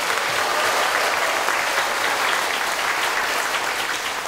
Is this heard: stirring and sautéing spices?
no